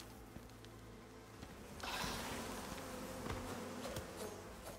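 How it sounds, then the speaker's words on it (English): A swarm of bees in the game Prometheus from Level 0 buzzes close by, a continuous drone that rises in intensity partway through, with scattered game clicks and thumps. "Oh, there's the bees."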